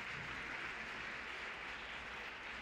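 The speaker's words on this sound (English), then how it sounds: "Please give her a round of applause." An audience at a women's forum event claps as a faint, distant wash of continuous applause that stays at an even level throughout.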